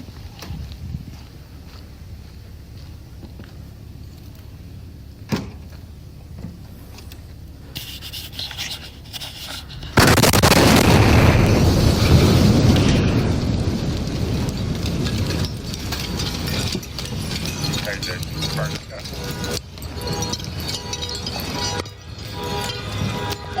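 The Christmas Day bombing in Nashville, captured on a police bodycam, goes off as a sudden loud roaring blast partway through. Quiet ambient rustling comes first, then the blast's rumble lingers and slowly fades, with no clear talking.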